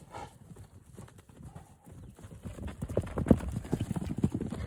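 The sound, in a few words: racehorses clip-clopping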